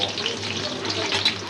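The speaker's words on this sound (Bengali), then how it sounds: "এই যে পেঁয়াজটা খুব সুন্দর করে ভাজা ভাজা হয়ে গেছে" Sliced onion, bay leaf and whole garam masala fry in hot oil, filling the clip with a loud, continuous, crackling sizzle up close and no talking.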